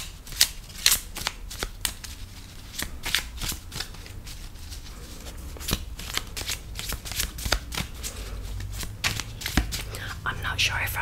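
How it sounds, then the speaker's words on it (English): UNO cards shuffled close up by hand, with repeated crisp riffles and soft flicking and sliding in an uneven rhythm, quiet and intimate, with no voices. "So this is how I used to shuffle when I was young."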